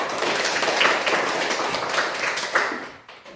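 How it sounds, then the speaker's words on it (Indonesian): Classmates in a classroom clap for a fellow student, a scattered, uneven patter of hands with a few sharper claps standing out, fading toward the end. "tepuk tangan buat teman kita"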